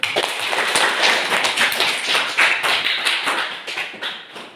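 Classroom of students clapping hands together in a teaching session, a dense, loud burst of many hands clapping close by for several seconds, with no talk over it.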